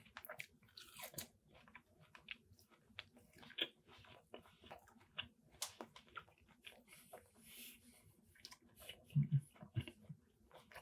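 Close, quiet chewing of a chewy restaurant steak at Chuck's Roadhouse, with soft wet squishes, crunches and mouth clicks scattered irregularly and a louder cluster of bites near the end.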